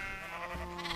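A Minecraft sheep bleats in a short, wavering, nasal cry, heard close and steady over a constant hum with no talk.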